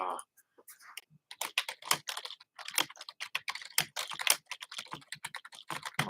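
Typing on a computer keyboard, a continuous rapid patter of close, crisp key clicks with uneven rhythm and brief pauses, no talking.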